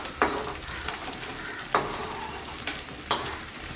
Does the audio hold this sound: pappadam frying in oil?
yes